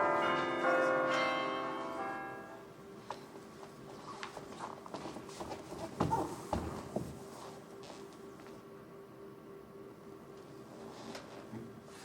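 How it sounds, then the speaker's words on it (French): A church bell rings out loud and resonant at the start, its tones sustaining for about two seconds before fading under scattered thumps, footsteps and clattering movement in a room for a daily prayer in the Gâtinais. "Il faut qu'on sonne la cloche."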